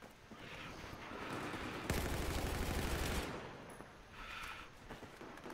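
Battlefield 4 gunfire in a multiplayer scrim match, a dense burst of rapid automatic shots lasting over a second amid quieter scattered game sounds, moderately loud against steady background noise.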